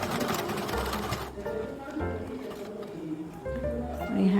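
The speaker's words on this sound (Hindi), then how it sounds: "इसे 1/2 इंच छोड़ते हुए इसे सीधे साइड के ऊपर रखते हुए सिलाई लगा रही हूँ" A sewing machine stitches a double-folded strip onto a princess-cut deep-neck blouse in short runs of fast, rattling needle strokes separated by brief pauses, with a voice speaking over it.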